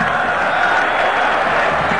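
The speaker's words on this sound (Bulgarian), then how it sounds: "При всяка добра проява на българин, стадиона избухва просто в аплодисменти." Stadium crowd at the 1994 World Cup match between Bulgaria and Germany, a steady broad roar of applause and cheering that fills the whole stretch without pause, heard from within the stands.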